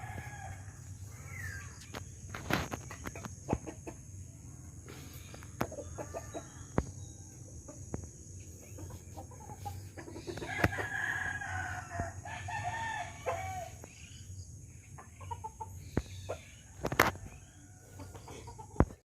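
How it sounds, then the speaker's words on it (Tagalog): Roosters crow repeatedly while chickens cluck nearby, with scattered farmyard bird calls over a steady low hum throughout. "ang ating mga alagang manok"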